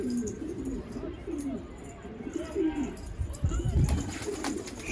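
Urfa pigeon cooing in soft, repeated low calls close by, with faint background noise and brief shuffling near the end.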